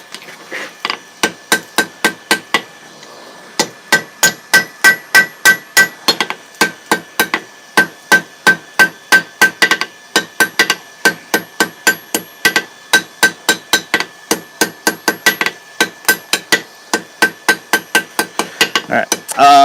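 A hammer rhythmically strikes hot folded steel being forge-welded into a bottle opener, dozens of sharp ringing metallic blows in a steady quick cadence, close and loud, with a brief pause early on.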